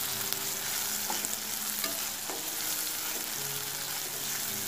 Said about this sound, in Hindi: इसे फिर से अच्छी तरह से मिला लेते हैं।